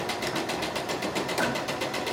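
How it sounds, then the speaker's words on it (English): An older sewing machine runs steadily with a fast, even mechanical chatter, close and continuous with no talk over it. "My sewing machine's probably on the older side."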